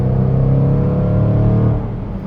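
An engine pulls hard as a car with an 8-speed automatic transmission accelerates in dynamic mode, a close, deep, rising drone that eases off near the end.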